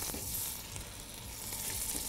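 Beef steak fillets sizzle and fry together in a large pot, a steady close crackling hiss that runs throughout with no talking.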